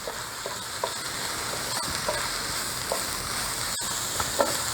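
Flour being stirred into browning hamburger meat in a hot pan: a steady close sizzle with repeated soft scraping strokes of the spoon against the pan.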